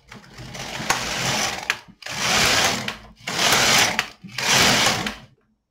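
An LK 150 knitting machine knits rows, its carriage making four loud, even rasping passes of roughly a second each with brief pauses between, close by and with no speech.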